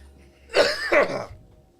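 Two quick, harsh coughs close to the microphone, about half a second apart, followed by quiet.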